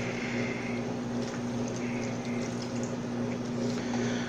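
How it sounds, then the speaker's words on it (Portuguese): A glass of ice water pours into a sausage mixture spiced with biquinho peppers, a soft continuous watery splash and trickle over a steady mechanical hum, with no talking. "Para poder bater essa massa, a gente vai usar 1 copo de água gelada."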